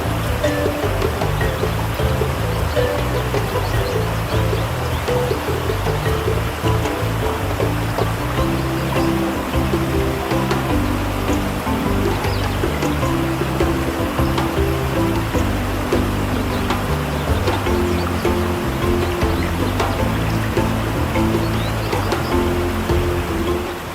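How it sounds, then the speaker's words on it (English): Ayikunugba waterfall in Oke-Ila, Osun State, southwestern Nigeria, pours in a loud, steady, continuous rushing roar heard close, with no voices over it. "One such nature-based tourist attraction is the Ayikunugba waterfall, located in Oke-Ila, Osun State in southwestern Nigeria."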